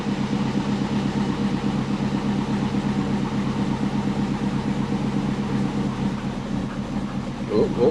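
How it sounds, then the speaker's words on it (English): An engine running steadily after start-up, a continuous rumbling drone with an uneven, slightly missing pulse throughout, close and fairly loud with no talk. "And start her up."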